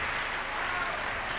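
A church congregation at a miracle service claps together in a dense, steady wash of hand claps, moderately distant and with no voices audible.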